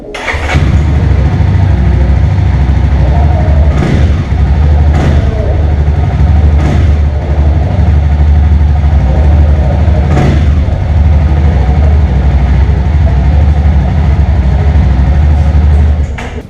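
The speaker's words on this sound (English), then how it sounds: "Jawa have worked really hard in terms of making a 4-stroke engine sound as" A Jawa Forty Two motorcycle's four-stroke engine runs steadily with a low, thumping note and brief revs, loud and close, while someone speaks over it.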